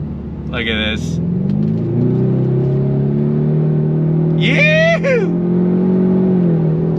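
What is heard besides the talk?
2024 Ford Mustang EcoBoost accelerating from a dead stop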